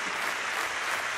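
At a BLAST Pro Series Counter-Strike final on Inferno between Astralis and SK Gaming, the home crowd claps and cheers in a dense, continuous roar of applause that stays loud and steady throughout the short stretch.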